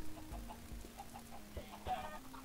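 Chickens clucking in a video game, a few soft short clucks over a faint steady background hum, quiet with no talking.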